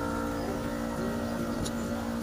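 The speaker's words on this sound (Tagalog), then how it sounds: "Yung compressor nya maingay." A noisy compressor on a repaired window-type air conditioner gives a steady droning hum with tonal whine, continuous and unchanging throughout, with no speech.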